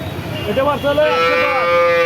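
Milk cows with heifer calves at a cattle market in Jashore, a loud nearby moo rising and holding for about a second over a noisy, busy background.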